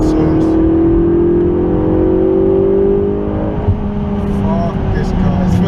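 A McLaren 650S accelerating hard on the Nürburgring GP track in heavy rain, its engine a loud steady drone with rising pitch that shifts down partway, heard from inside the car.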